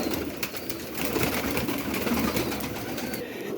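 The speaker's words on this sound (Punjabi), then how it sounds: "ਇਹ ਸਾਰੇ ਇੱਕ ਕਬੂਤਰ ਆ, ਇਹ ਸ਼ੇਖਾਂ ਵਾਲਾ ਕਬੂਤਰ ਆ।" Several pigeons cooing together in soft, overlapping low murmurs, steady and continuous with a faint outdoor hiss behind them.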